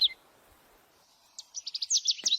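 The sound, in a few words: birds chirping near fields on Merbabu hiking trail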